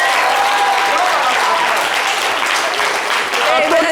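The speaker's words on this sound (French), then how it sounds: "Applaudissez." Steady applause from a crowd, continuous clapping filling the room with voices faintly mixed in.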